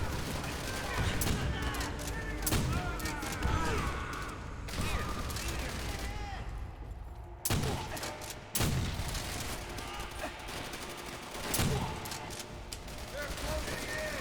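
Dense video-game gunfire from Call of Duty: World at War, with shotgun blasts, bursts of rifle and machine-gun fire and explosions, loud and continuous throughout with a few sharp heavy booms standing out.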